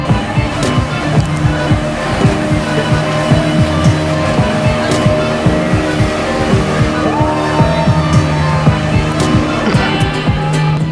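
A speedboat speeds across the water at Shopnopuri park in Dinajpur, its engine a loud, rough, continuous drone with choppy fluttering pulses throughout, close and steady.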